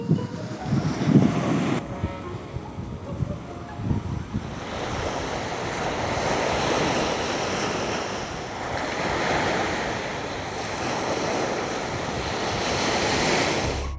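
Sea waves wash onto the beach at Viña del Mar in a continuous roar that swells and recedes, mixed with wind buffeting the microphone.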